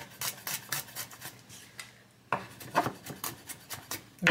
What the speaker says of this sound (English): I'm going to chop the garlic first